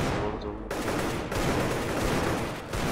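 Dense, loud gunfire in Counter-Strike: Global Offensive, pistol shots in a competitive match against bots, with sustained rapid reports over the full stretch and a brief dip near the middle.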